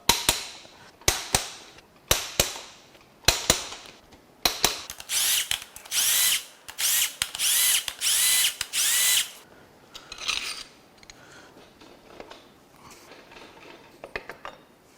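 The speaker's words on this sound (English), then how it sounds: "Next, we're going to unbolt the main cap bolts." A power tool unbolts the main cap bolts on a recalled Nissan/Infiniti VC-Turbo engine with a failure at 98k miles. Loud impact rattles come in short bursts, then longer sustained runs, then fade to faint clinks, with no talking.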